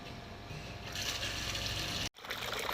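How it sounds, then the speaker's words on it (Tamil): Water flows steadily from a running 5 hp motor pump: a continuous rushing, splashing hiss that cuts out for an instant near the end and then resumes. "தண்ணியும் வந்துக்கிட்டே இருக்குங்க"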